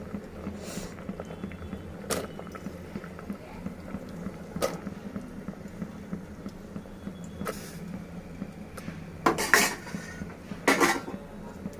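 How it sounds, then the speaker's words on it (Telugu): Cluster beans being tipped into a pot of cooked toor dal: scattered metallic clinks and clatters of pots and a utensil against a quiet kitchen hum, with a louder burst of clattering near the end and no speech. "ఇప్పుడు కందిపప్పు ఉడికింది కదా ఇప్పుడు గోరుచిక్కుడుగా వేస్తాం"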